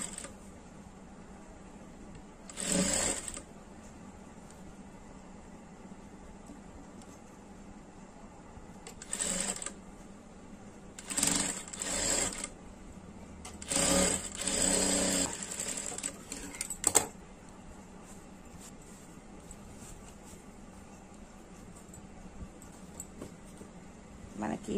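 A sewing machine stitches a blouse belt pocket in several short bursts of rapid whirring, close by, between stretches of quiet room hum, with someone talking throughout.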